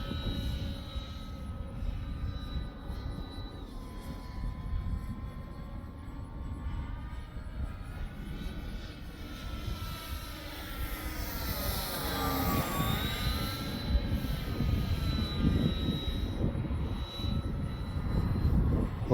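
A Dynam Me Bf-109 radio-controlled model warplane with retractable gear drones steadily, then swells and sweeps down in pitch as it passes close overhead, leaving a louder whine and wind rush as it flies on.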